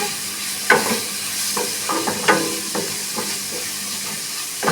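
Spatula stirring tomatoes and onions in a hot kadai for kadai paneer, with several distinct scraping strokes over a steady sizzle, close and fairly loud with no talking.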